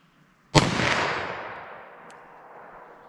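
A single sharp 9mm gunshot from a Liberty Civil Defense round fired in a full-size pistol cracks once, close and loud, then rings out in a long decaying echo outdoors.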